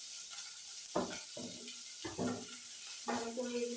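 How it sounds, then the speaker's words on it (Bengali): Onion, garlic and dried chillies fry in a pan, a steady sizzle under a person talking. "ভালো করে এগুলো লাল লাল করে ভেজে নিতে হবে।"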